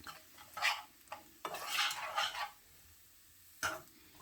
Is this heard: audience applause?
no